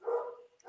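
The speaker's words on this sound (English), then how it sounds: "I'm sorry about my dogs barking." A dog lets out a single short bark at fairly close range, followed by a faint quiet tail, with no one talking over it.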